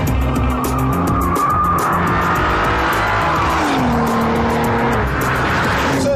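Audi TT with a 3.2-litre V6, four-wheel drive and a DSG gearbox, driven hard: a loud, continuous engine note rises and falls through the revs, with tyre squeal close by and no talking.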